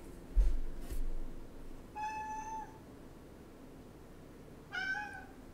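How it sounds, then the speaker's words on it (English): A pet cat meows twice, one short call and then another a few seconds later, close and clear over a quiet background with soft thumps at the start. "My cat thinks we need to be finishing up the game here as well."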